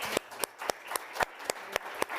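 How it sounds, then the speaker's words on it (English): Sparse, evenly spaced claps from a small audience honoring a panel at a World Economic Forum session, about eight sharp hand claps in two seconds, fairly faint and without talk. "A round of applause for this tremendous panel"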